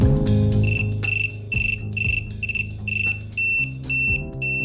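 A Vifly Finder 2 drone finder buzzer sounds a series of loud, shrill, even-spaced beeps that start in short bursts and then merge into longer tones, over a low electrical hum.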